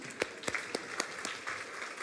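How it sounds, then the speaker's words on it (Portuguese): A church congregation applauds during a Lord's Supper service, heard as faint, distant, scattered clapping with a few sharper individual claps standing out. "uma salva de palmas para eles"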